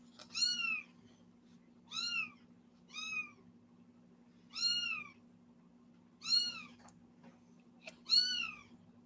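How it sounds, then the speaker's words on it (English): A kitten meows six times in a steady, spaced series, each a clear, fairly close rising-and-falling cry over a low constant hum, with no talk. "Y'all hear the kitten?"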